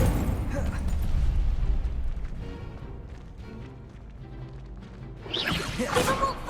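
Incendio fire spell cast in the video game Hogwarts Legacy: a dense roaring burst of combat noise that eases off, then a bright crackling whoosh of flame flares near the end.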